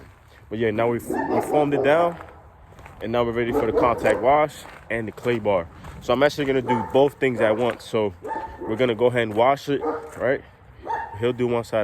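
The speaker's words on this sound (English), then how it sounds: "Sorry about the dogs." Dogs bark repeatedly in the background of an outdoor car-detailing session, with the barks mixed in under nearly continuous close talk.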